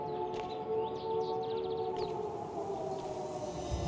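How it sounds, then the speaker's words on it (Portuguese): A siren drones in the video game Life is Strange: True Colors, a steady layered wailing tone held at low to moderate volume, with a few brief higher chirps near the start and no talking. "Som de sirene."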